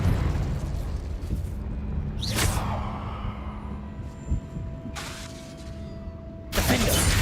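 Explosive Confringo spell blasts in the video game Hogwarts Legacy: several sharp bursting booms spaced a couple of seconds apart over a steady game soundscape, with no talk.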